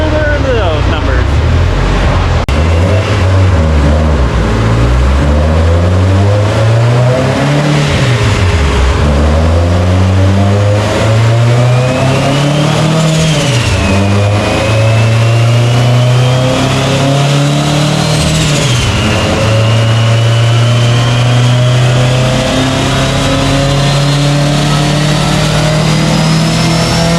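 A Subaru STI making over 1000 wheel horsepower revs hard on a Mustang dyno, its loud engine note sweeping up through repeated pulls, with turbo whine and gear changes audible over a constant roar.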